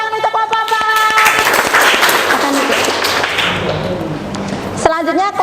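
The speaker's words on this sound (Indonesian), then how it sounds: "Kita berikan aplaus tepuk tangan untuk kelompok 4." Audience applause for group 4 during a classroom teaching-practice session, a few seconds of dense clapping that swells, holds steady, then cuts off, with a voice speaking briefly before and after.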